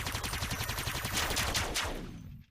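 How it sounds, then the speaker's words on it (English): Dozens of laser pistols fire together as a tabletop role-playing game sound effect, a loud, rapid, pulsing volley of zaps that holds steady, then swells and decays abruptly into silence. "you hear dozens and dozens of laser pistols"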